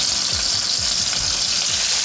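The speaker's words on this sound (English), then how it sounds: "these pork chops are loud in here" Pork chops fry in a pan, giving a loud, steady hiss and crackle of sizzling fat close by, with no talking over it.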